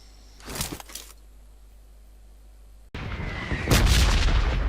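Distant gunshots from a PUBG Lite match, a pair of sharp cracks early on, then a louder, closer burst of gunfire with rumbling low-end after a short gap.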